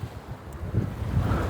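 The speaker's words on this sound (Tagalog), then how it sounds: "Nag-pick up yung hangin." Wind blowing across a lakeside campground on a fishing day, a steady low rumbling gust against the microphone that swells a little louder partway through, with no voices.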